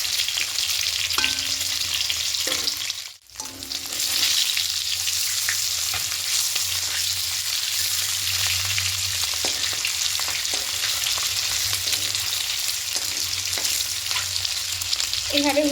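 Eggs frying one by one in hot oil in a wok for a coriander-leaf egg curry, giving a steady, close, loud sizzle throughout with a short dip near the start and small scrapes of stirring.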